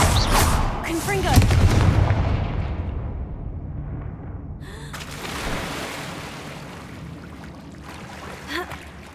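Confringo blasting spells going off in a Harry Potter wizarding video game, with a loud burst and crackling blast early on, a roaring rumble, then a second fiery blast near the middle. A small pop comes near the end, all under steady game ambience.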